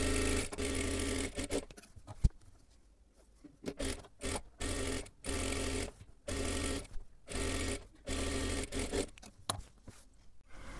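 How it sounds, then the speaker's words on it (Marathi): A sewing machine runs in short, repeated bursts while stitching a blouse, its rapid chatter starting and stopping in quick succession at close range. "पूर्ण शिलाई करून घ्यायची आहे दोन्ही सुद्धा बाजूंना"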